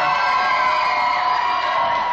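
Wrestling arena crowd at an RWA Season's Beatings show roaring steadily, a dense, loud wall of cheering and shouting that holds without a break throughout.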